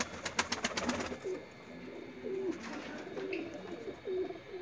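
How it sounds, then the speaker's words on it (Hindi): Fancy pigeons for sale coo in soft, repeated low calls, a few rustles and flaps at the start, with steady background hum. "फैंसी कबूतर है"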